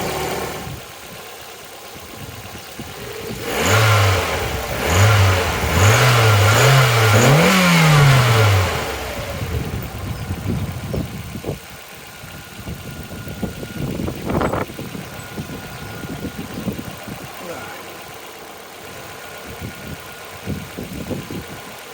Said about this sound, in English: Let's give it a few revs and see what happens.